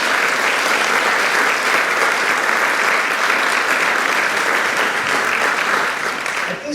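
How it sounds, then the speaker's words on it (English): Loud, sustained audience applause at an arts performance in a parlor, steady dense clapping for the full stretch before tapering slightly at the end. "Let's give them another round of applause."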